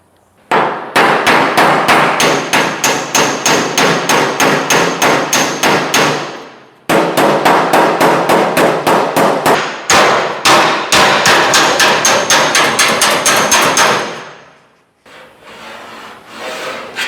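A hammer strikes the metal body panel of a 1970 Ford LTD to knock out dents, giving long runs of rapid, loud, evenly spaced clanging blows with short pauses between bursts.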